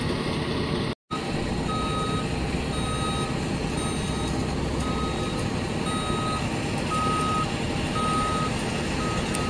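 A truck at Jebel Ali port sounds its reversing alarm, a steady run of evenly spaced electronic beeps repeating over a constant low rumble of engines and port machinery, with one brief dropout early on.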